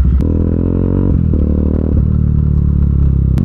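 A motorcycle being ridden along a scenic road: a loud, close engine drone with a steady throbbing note that shifts slightly as the throttle changes, plus a few sharp clicks and some wind rumble.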